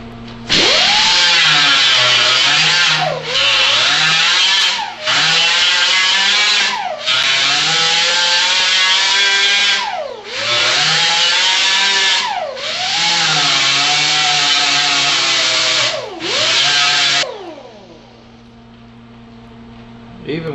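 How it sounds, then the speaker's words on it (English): Angle grinder grinding down welds on a 1979 Chevrolet El Camino, a loud, close, continuous high whine broken into several long passes with brief dips in pitch, then fading out near the end. "you can build up a lot of heat grinding down a weld like this"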